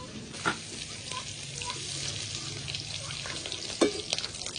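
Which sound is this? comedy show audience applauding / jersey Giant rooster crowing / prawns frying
prawns frying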